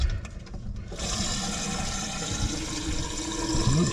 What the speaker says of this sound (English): Let's run some water.